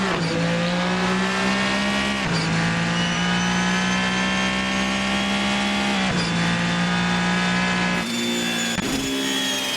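A race car accelerates hard on a track, its engine screaming up through the revs in long rising pulls broken by abrupt gear-change dips, loud and close throughout with no talk.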